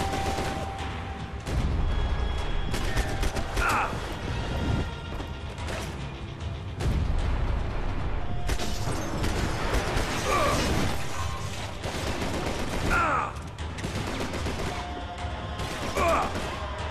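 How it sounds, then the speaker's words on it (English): Gunfire in Max Payne 3 crackles through a dense, cluttered game mix with mechanical clanks, creaks and bursts of shots recurring across the passage, loud and busy but not cleanly separated. "Stop shooting, please."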